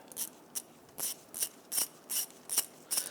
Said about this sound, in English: On the back of the knuckle right here, this is a 10mm bolt. I'm going to go ahead and loosen that and remove it.